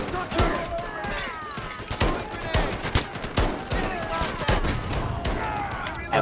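Gunfire from the video game Delta Force, Black Hawk Down campaign: loud, rapid bursts of automatic shots and sharp cracks repeat throughout, with players talking over the shooting.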